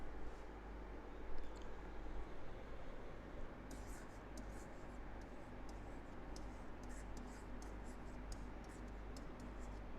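A teacher writes by hand during a chemistry lecture on nitrogen. Faint, light scratching and ticking strokes come in short runs over a quiet, hissy room.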